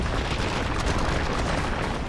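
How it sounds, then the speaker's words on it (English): A loud, sustained explosive roar, dense and rumbling throughout, like a blast or heavy detonation thundering out with no break. "the sound of an explosion thunders out"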